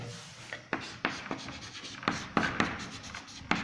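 Writing on a board during a biology class: a close series of sharp scratching strokes and taps, each fading quickly, coming in irregular bursts with no voices.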